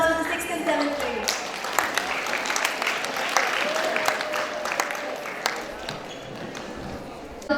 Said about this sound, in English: Give a huge round of applause for the 6th and 7th grade.